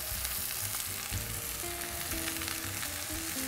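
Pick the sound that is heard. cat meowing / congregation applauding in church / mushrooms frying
mushrooms frying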